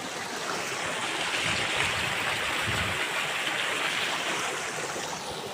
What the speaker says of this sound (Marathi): असं भरपूर पाणी वाहत आहे मित्रांनो